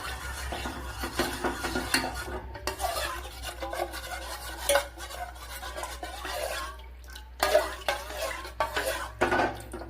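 A spoon stirs a custard milk mixture in a pan for pudding, making continuous scraping and sloshing with occasional metallic clinks against the pan.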